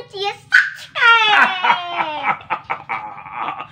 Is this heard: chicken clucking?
yes